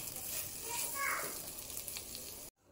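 A masala mix fries in a pan over a low flame, making a soft, continuous sizzle with a few faint stirring scrapes before it cuts off abruptly near the end.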